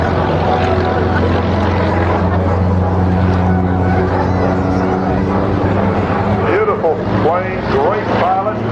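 Propeller airplanes fly past at an air show with a loud, continuous engine drone that holds throughout, rising and shifting near the end as they pass, with a crowd or announcer faintly beneath.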